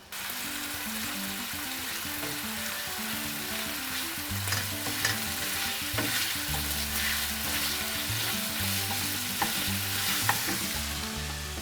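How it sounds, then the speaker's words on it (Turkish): Steady close sizzling and crackling of chicken frying in a hot pan, with occasional stirring scrapes, continuing without pause. "Tavukları içine ekliyorum. Cızırdamaya başladılar zaten."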